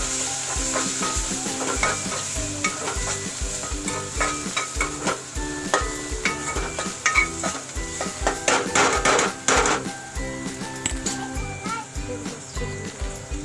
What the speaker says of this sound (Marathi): हे मसाला छान परतून घेतलेला आहे